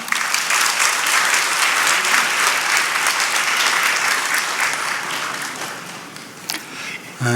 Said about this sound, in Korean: 나오실 때 박수로 환영해 주시면 감사하겠습니다